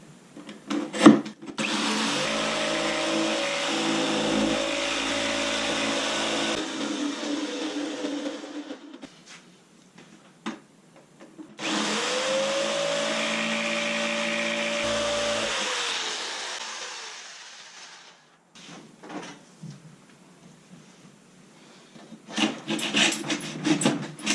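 A saw rasps steadily through thin material in two long passes, loud and close, with short quiet gaps and scraping handling noises between.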